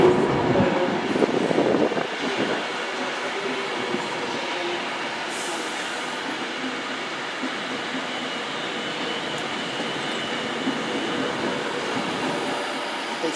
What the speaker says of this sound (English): arriving in now is a Virgin Pendolino